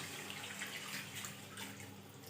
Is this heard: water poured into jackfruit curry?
yes